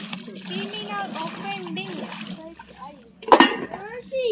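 Dishes, pots and pans being washed by hand, a burst of clattering metal and splashing water heard under ongoing chatter, including a voice.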